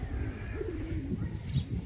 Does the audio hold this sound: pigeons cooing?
yes